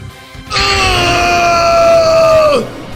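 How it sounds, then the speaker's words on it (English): A single long, piercing scream of pain rises abruptly, holds strong and steady for about two seconds, then drops off in a sharp falling break, loud and close. "unleashing a blood-curdling scream to the high heavens"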